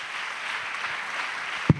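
A church congregation applauds in acclamation of Jesus Christ, a dense wash of clapping filling the short span, ended by a single knock-like thud.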